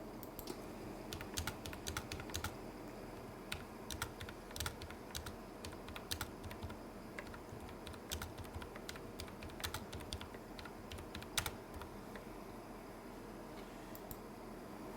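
Computer keyboard typing in an amateur radio station, a steady run of quick, light key clicks close by with uneven rhythm and brief pauses, no voices over it.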